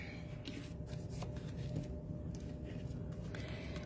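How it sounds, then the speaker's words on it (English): Cardstock being folded by hand at a card-making class, a steady papery rustle and shuffle running close and continuous with small crisp scrapes, no talk. "we're just going to fold our cardstock"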